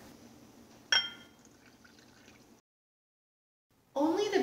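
Water is poured into a container of baking powder. A sharp splash starts the pour, which then trails off into quiet, and a louder, noisier burst of liquid sound returns near the end.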